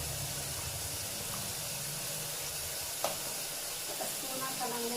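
Ginger garlic paste fries in hot oil in a pan for egg biryani, a steady close sizzle and hiss with a few light clinks of a spoon stirring.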